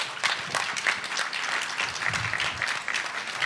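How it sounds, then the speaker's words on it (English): Audience applause at a live business conference panel on franchise operations, a steady wash of many hands clapping throughout, moderately loud with a faint voice low underneath. "Let's give them a big round of applause."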